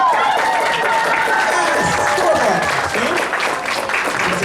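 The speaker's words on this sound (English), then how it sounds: "Another round of applause." A crowd at a cosplay contest applauds and cheers loudly, a continuous wash of clapping with whoops, while an announcer's voice carries over the noise.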